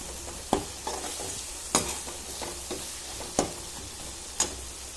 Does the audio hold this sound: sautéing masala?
yes